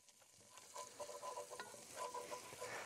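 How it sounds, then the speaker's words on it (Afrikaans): Oxtail frying in butter with garlic in a pan, a steady close sizzle with intermittent stirring scrapes and crackles building in loudness, no voices. "Nou hom gaan ons so vir 2 minute net lekker braai saam met die botter en die knoffeltjie."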